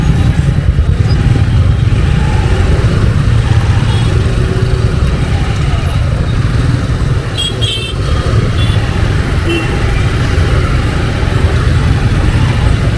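Dense motorbike and car traffic on a crowded dirt road during a five-day Ganpati immersion, engines droning steadily and loudly throughout with no pauses.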